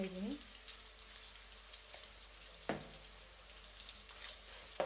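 Onions frying with salt in a pan for vermicelli upma, a faint steady sizzle with a few soft crackles and light stirring, close but quiet, with a brief voice near the start.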